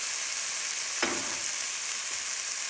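Red pepper, broccoli and carrot sauté in a hot pan with a steady broadband sizzle, broken once by a louder stirring scrape partway through; no voices.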